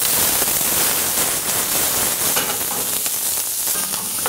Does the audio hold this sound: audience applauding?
no